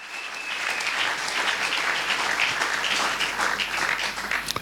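A church congregation claps hands in praise of the Lord, dense continuous applause-like clapping filling the space, loud and sustained with no talk over it.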